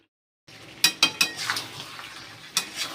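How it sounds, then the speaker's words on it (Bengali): A spatula scrapes and clanks against a pan while mutton curry is stirred and browned, giving several sharp metallic knocks over a faint sizzle after a short silence at the start. "ভালো করে কষাচ্ছি"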